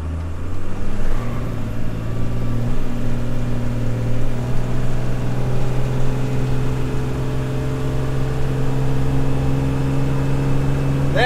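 A 1st Gen Cummins diesel truck accelerates hard with a stock versus aftermarket fuel pin, its engine drone steady and loud, pitch climbing gradually as it pulls, with no talk over it.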